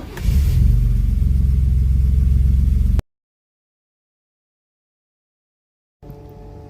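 Car engine idling to warm up before an oil change, a steady low rumble close by for a few seconds, then silence, then a fainter return of the engine noise.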